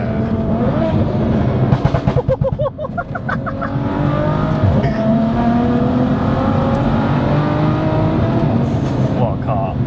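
A big single-turbo 650 bhp BMW M2 engine revs and burbles up close, its pitch rising and falling with a few crackling pops, while voices talk over it.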